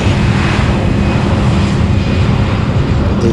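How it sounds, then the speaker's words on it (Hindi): Inside a passenger airplane on a flight from Varanasi to Mumbai, the engines roar loudly and continuously during takeoff, a dense, steady broadband rumble that fills the whole cabin. "जब ये विमान हवा में उड़ेगा तो आपको हल्का सा दबाव नीचे की तरफ पता चलेगा।"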